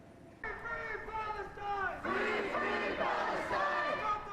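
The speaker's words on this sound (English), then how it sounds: "The crowd spilling out on the street, marching down Yonge." A large pro-Palestinian protest crowd on a Toronto street near Yonge and Bloor chants in unison, loud, steady, sustained voices rising in pitched, rhythmic phrases, a gap at the start, then the chant swelling louder about halfway through.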